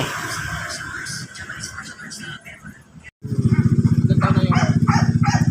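A dog barks amid loud engine noise and chatter, then a motorcycle-like engine roars steadily close by.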